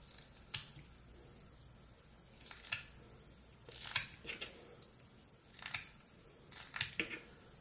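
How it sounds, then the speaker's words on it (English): Quiet, close knife cuts whittling a small wooden chess piece, tapering it with little scraping slices that come in short, uneven bursts about a second apart over a faint background hush. "start making little cuts to taper that in"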